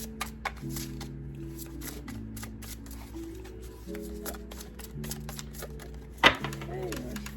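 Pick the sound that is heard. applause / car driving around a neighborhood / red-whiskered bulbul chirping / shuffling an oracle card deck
shuffling an oracle card deck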